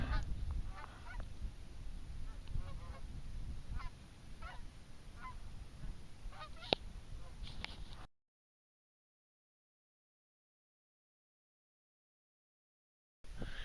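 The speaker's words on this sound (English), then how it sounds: "We got the geese up there." Geese honking over a frozen Utah lake, a chorus of repeated honks above a steady wind-like rush for about eight seconds, then silence before a brief return of sound.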